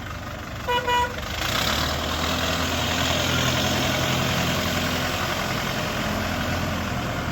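An Orion 504 Pro mini tractor engine idling steadily and close by, a low, even mechanical hum after a couple of brief tonal toots at the start.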